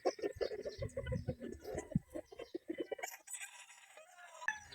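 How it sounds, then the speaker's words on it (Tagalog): Gilmore gamefowl roosters on a gamefarm crow in overlapping calls, loud and close at first, then fainter crowing and clucks after a brief lull, with someone speaking briefly between them. "Ayan yung mga manok."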